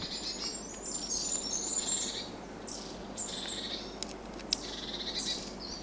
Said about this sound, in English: All I seem to be doing is feeding the local bird population.